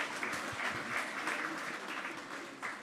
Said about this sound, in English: Can we give him a round of applause once more?